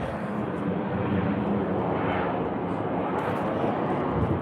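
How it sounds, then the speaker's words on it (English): An aeroplane passes overhead, a steady broadband engine roar that stays loud and even throughout the few seconds, with no talking over it. "Oh, here comes an aeroplane."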